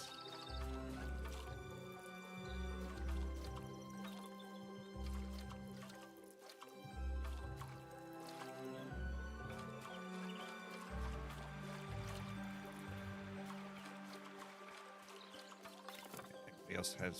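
Crops being watered in the cozy farming video game Tales of the Shire, with liquid pouring and splashing sounds repeating in bursts over a steady musical backdrop.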